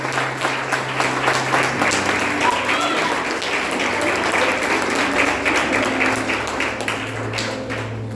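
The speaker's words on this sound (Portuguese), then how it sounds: "as palmas louvam ao Senhor" Church congregation clapping throughout a worship service, dense steady applause with a low sustained musical tone underneath and faint voices mixed in.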